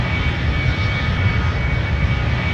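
Airplane engine in a video game where a burning aircraft crashes and explodes, a steady, dense engine drone heard close and unbroken.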